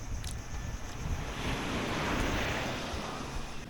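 Waves break on a seaside shore in Palawan, a steady rushing surf swelling slightly midway, mixed with heavy wind noise on the microphone and no speech.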